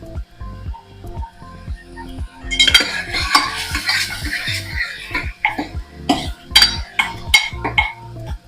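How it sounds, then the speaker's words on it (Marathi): A utensil scrapes and clinks against a pan in an irregular rhythm while food sizzles softly underneath, close and busy. "टोमॅटो आता सॉफ्ट होईपर्यंत आपल्याला ह्याला परतून घ्यायचं"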